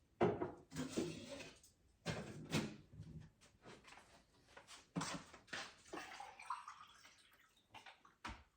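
Kitchen sounds while getting a glass of water: cupboard and drawer clunks, a glass being set down and a tap running in short bursts, all fairly quiet and close, with no talking.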